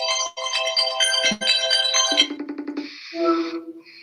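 A phone ringing as a FaceTime call comes back in, a loud electronic ringtone of bright repeating tones that changes pattern partway through, with no voices.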